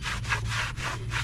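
A cloth wipes a truck's brake rotor surface clean in quick back-and-forth strokes, producing a soft rhythmic rubbing swish repeated several times close up.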